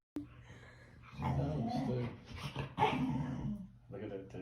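A dog close by, growling and whining in a long low grumbling run that rises and falls, with a short break before it resumes.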